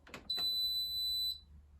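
A Hotpoint washing machine with an overheated door interlock gives a single clear electronic beep lasting about a second, in an otherwise quiet room.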